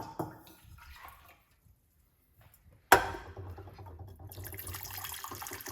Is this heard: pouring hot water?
yes